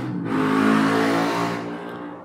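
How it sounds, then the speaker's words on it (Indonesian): A car passes close along a roadside, a loud engine roar that swells and fades over about two seconds, with steady traffic noise around it and no talking. "ini karena pengambilan uh, gambarnya ada di pinggir jalan, jadi mungkin sangat berisik, agak berisik ya"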